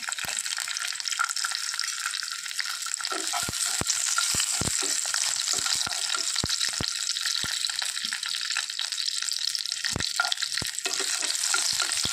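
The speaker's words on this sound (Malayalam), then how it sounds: "ഈ നെയ്യിലേക്ക് തന്നെ നമ്മൾ എടുത്തു വെച്ച ഉണക്ക മുന്തിരി ഇട്ട് കൊടുക്കാം" Raisins sizzle steadily in hot ghee in a pan, a continuous crackling fry broken by a few sharp spoon or ladle taps against the metal, with no voices.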